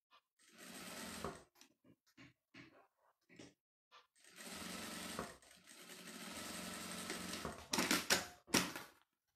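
A sewing machine stitches a zipper onto a blanket in bursts of rapid mechanical whirring, short runs alternating with longer continuous passes, close and clear.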